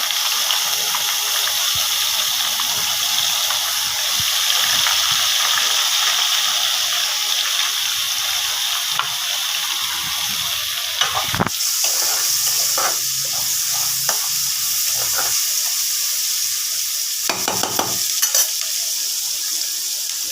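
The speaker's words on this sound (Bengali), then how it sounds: "বন্ধুরা তেল গরম হয়ে গেছে, এবার পেঁয়াজ কুচি দিয়ে দেবো।" Chopped onions fry in hot oil for a Bengali chicken amani, giving a steady close sizzle with occasional scraping stirs and brief clatters of a utensil against the pan.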